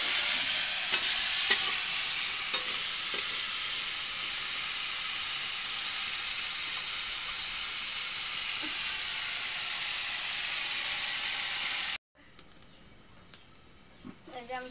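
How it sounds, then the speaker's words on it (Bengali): Potatoes seasoned with turmeric and salt sizzle steadily in a hot pan while being stirred, a continuous close frying hiss that cuts off abruptly near the end, leaving quieter room sound with a few clinks. "এখন আমি নাড়াচাড়া করে আমি ভালোভাবে লাল লাল করে আমি ভাজিয়ে নেব।"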